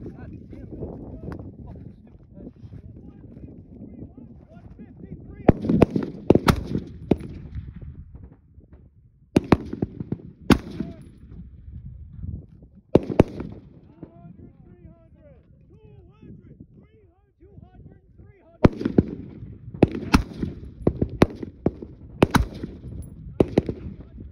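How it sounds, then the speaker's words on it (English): M4 rifle fired at a sandbag on a range, sharp cracks arriving in quick bursts and clusters of several shots with pauses between, loud and close over low wind rumble, with voices talking during the gaps. "You're gonna shoot that sandbag."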